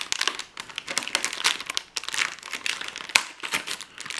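Plastic packaging of a Topolino magazine collectible magnet is opened and unwrapped, producing close, loud crinkling and crackling in irregular bursts with brief sharp tearing snaps.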